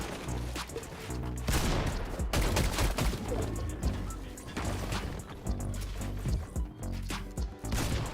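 Shotgun blasts and other gunfire ring out in a Fortnite solo match, a dense rapid run of loud, sharp shots and impacts filling the whole stretch, with no clear talk.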